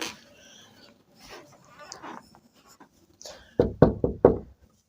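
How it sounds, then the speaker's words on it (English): A knock at a door, a quick cluster of four or five loud raps near the end after a quiet stretch of faint room sounds and soft movement. "she gets a knock at the door"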